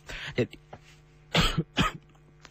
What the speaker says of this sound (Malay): Mohon maaf terbatuk tadi.